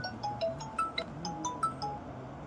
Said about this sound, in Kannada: ಯಾರ ಫೋನ್ ಮಾಡಿದ್ರಪ್ಪ